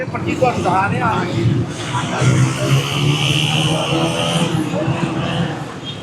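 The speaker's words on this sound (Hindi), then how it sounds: "यहाँ पर ट्रैफिक का काफ़ी शोर भी है और रश भी है।" Busy night-time street near Mochi Gate in the walled city of Lahore: a constant roar of passing vehicles mixed with crowd babble and nearby voices, loud and unbroken throughout.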